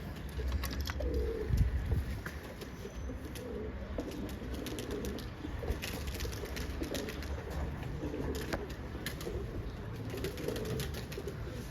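Ankara play pigeons coo repeatedly in a loft, with soft throaty calls, occasional wing flutters and light background rustle throughout.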